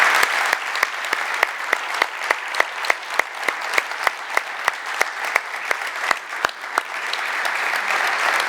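Applause from a lecture audience at an ethnography and folklore conference, loud, sharp claps at a steady, even beat that dominate the whole stretch, close and clear with no talking.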